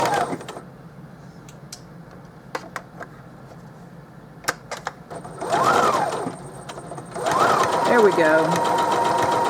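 A sewing machine stitches a quarter-inch seam on a Christmas stocking made from Dollar Tree placemats, quiet tapping and handling at first, then two bursts of close, whirring stitching, with a brief spoken remark.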